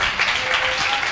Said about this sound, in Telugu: గట్టిగా చప్పట్లు కొట్టు